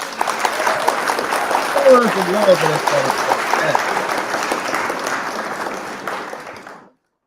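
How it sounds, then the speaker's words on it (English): An audience claps and cheers for several seconds at a show, a steady wash of applause with a voice speaking over the top before the noise fades out. "Everybody give a round of applause to Marcia"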